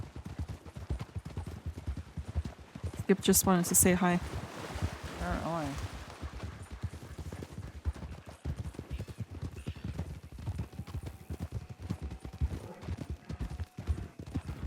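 Steady, soft horse hoof clip-clop in a video game runs through the whole stretch, with a brief burst of talking and a short high tone early on.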